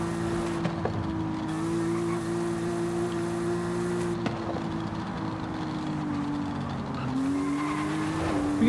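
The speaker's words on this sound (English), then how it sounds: "You can hear the tires like crying for help." Tires squeal in sustained, wavering howls as a car drifts in Forza Horizon 5, fitted with very wide tires, over a steady engine drone. The squeal is loud and continuous, dipping briefly and rising again near the end, with no talking.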